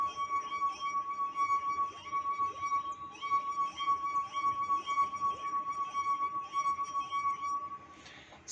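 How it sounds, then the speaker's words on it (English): A wine glass filled completely with water sings as a finger circles its rim, a steady pure ringing tone with a faint rhythmic pulse, sustained and close for several seconds. "I'll fill this glass completely with water and again produce the sound"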